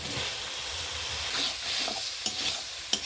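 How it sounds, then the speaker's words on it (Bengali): Boiled new potatoes being stir-fried with spices in a pan for an egg curry, giving a steady close sizzle with scraping stirs and two sharp utensil knocks near the end. "আলুগুলো মশলার সঙ্গে ভালোভাবে কষিয়ে নেব"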